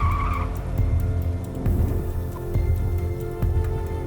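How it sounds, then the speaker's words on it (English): A car accelerates hard and swerves across a road, its engine roaring while the tires squeal and skid, loud and close throughout the stretch. "He pressed on the gas and swerved the car around on the road."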